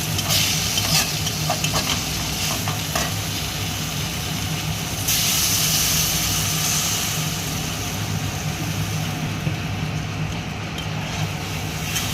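Fish curry being stirred in a pan, made with small bacha fish, turmeric powder and salt: a steady close sizzle with scraping stir strokes runs throughout the clip, louder for a moment midway, with no voices.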